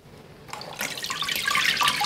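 A handmade-paper mould lifted straight up out of a vat of water, a soft splash followed by a growing patter of water draining and dripping back into the vat, close and fairly quiet.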